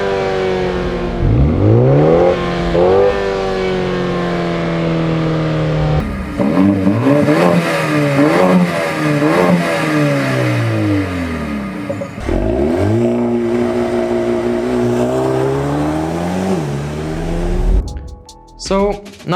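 A Mercedes A35 AMG sedan and a BMW M135i hatchback revving their engines in turn, loud repeated rising and falling blips close by, with sharp throttle swells and a pause between the cars.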